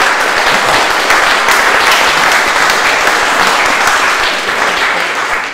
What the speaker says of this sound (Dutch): een applaus voor Charles hier